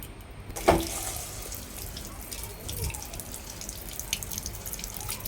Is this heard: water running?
yes